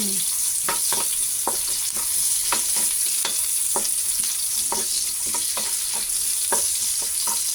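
Onion for pancit sizzles loudly in hot oil in a pan, a dense, steady crackling hiss with occasional clicks of a spatula stirring, close up and without voices.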